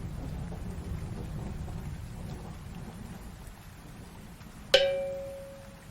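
Steady rain hisses throughout, faint and even, until a single sharp crack of thunder near the end rings out and fades slowly over the rain.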